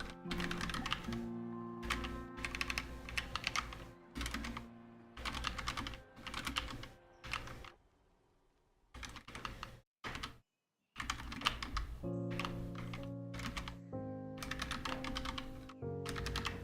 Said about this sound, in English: I want to try typing while hovering my hand.